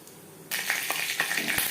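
Panch phoron spices and bay leaves hit hot refined oil after a brief quiet, setting off a sudden loud, steady sizzle with scattered crackles and pops.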